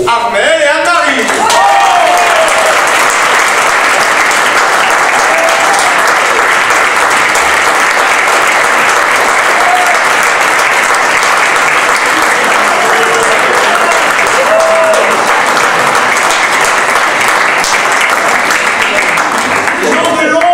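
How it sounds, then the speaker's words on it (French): A show audience gives a long, loud, sustained ovation for the costume makers, with dense clapping filling about twenty seconds and occasional voices and cheers rising briefly over the crowd. "je voudrais qu'on applaudisse nos costumières, Armelle et Anne-Marie."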